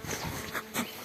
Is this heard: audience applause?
no